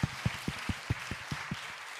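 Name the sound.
applause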